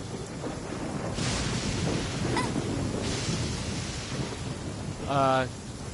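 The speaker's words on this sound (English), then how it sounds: "And it's raining." Steady rain with low rumbling thunder in a Genshin Impact stormy landscape, a broad wash of downpour carrying a couple of swelling gusts and a short tonal honk-like blip near the end.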